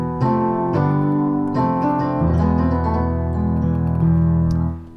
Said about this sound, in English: That's the sound of Phrygian.